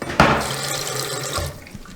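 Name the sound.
bathroom sink faucet running water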